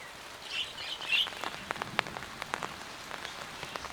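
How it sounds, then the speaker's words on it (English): Rain shower pattering steadily on a greenhouse roof, with scattered sharper drops and a few faint bird chirps mixed in, no voices. "Today will be filled with sudden showers."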